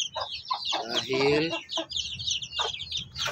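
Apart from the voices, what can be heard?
hen clucking, a hen that eats feathers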